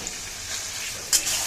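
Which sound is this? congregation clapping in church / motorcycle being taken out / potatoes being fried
potatoes being fried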